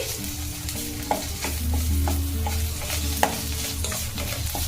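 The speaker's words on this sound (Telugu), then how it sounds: "దీన్ని కూడా మంచిగా పచ్చివాసన పోయే వరకు ఫ్రై చేసుకోవాలి" Ginger garlic paste fries with onions in a pan for a prawn curry, giving a steady close sizzle broken by a few sharp spoon scrapes and taps as it is stirred.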